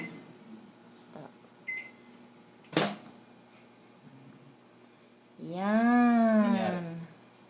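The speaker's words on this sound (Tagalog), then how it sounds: "sa wakas nagkaroon uli ng microwave, new microwave" A new microwave oven runs with a low, steady hum, broken by a few brief clicks and knocks. Near the end a louder wavering, whining tone rises over it, with faint voices in the background.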